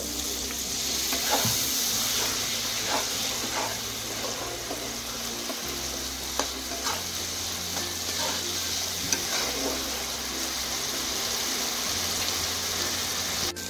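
Ground spices sizzle and crackle in a pan with a splash of water, a steady close fry holding through with a low hum under it and occasional soft clinks, no talk.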